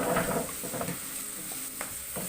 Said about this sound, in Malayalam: ഇനി ഈ പഴം നന്നായിട്ട് നമുക്കൊന്ന് വഴറ്റിയെടുക്കണം.